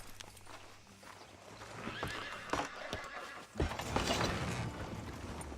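Horses ridden in Red Dead Redemption 2, with clip-clopping hooves, a whinny and creaking tack, growing busier and louder over a few seconds with faint game ambience beneath.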